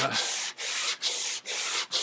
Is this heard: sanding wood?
yes